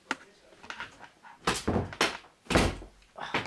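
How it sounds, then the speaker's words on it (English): A door is closed in a room, with a series of loud thuds and bumps that includes a heavier slam partway through and softer knocks and shuffles around it. "let me close the door"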